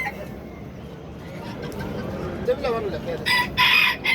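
A rooster crows at a bustling market, the call rising near the end over steady crowd noise and chatter.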